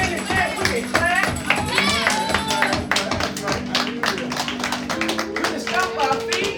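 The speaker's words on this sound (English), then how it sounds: "And if we don't sing and dance, we can clap." A church congregation claps in praise, rhythmic hand claps mixed with tapping and singing voices, close and lively throughout.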